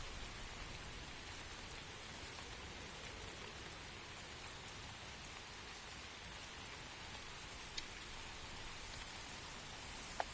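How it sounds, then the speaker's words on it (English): Steady rainfall pattering on surfaces in the video game The First Descendant, a continuous even hiss with scattered droplet ticks and no voices. "Oh, and it's raining."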